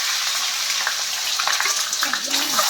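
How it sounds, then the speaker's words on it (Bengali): Eggs sizzle and spit in very hot oil for a jackfruit and egg curry, a steady, close, bright frying hiss with small pops, and a voice briefly murmurs underneath. "এই যে তেলটা একদম গরম হয়ে গিয়েছে, এখন এই ডিমগুলো ছেড়ে দিচ্ছি তেলের উপরে"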